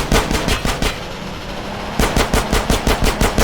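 Rapid automatic gunfire in GTA San Andreas Definitive Edition, loud bursts of evenly spaced shots, a pause of about a second, then another steady burst.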